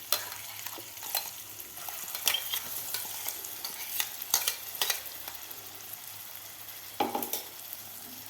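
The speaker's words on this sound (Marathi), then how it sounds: "कमी गॅसवर आपल्याला हे वाटण व्यवस्थित परतून घ्यायचं आहे" Freshly ground masala paste sautés in a pan over a low flame for a spicy amti curry, with a soft, steady sizzle and irregular close scrapes and clinks of a spoon stirring.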